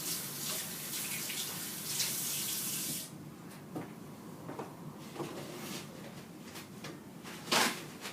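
A tap runs hard into a sink while hands are washed in a kitchen, a loud steady rush that cuts off abruptly after three seconds, followed by quieter splashes, drips and a small knock.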